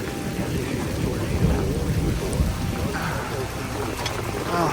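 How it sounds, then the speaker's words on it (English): Heavy rain and strong wind batter a rooftop tent during a wild storm, a loud, continuous roar of drumming water and gusts that fills the whole stretch without a break. "First, the rain came down pretty hard."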